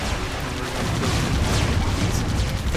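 Defense turrets in the AirMech video game fire in a dense, crackling barrage of booms and rapid shots, loud and continuous, with no talk.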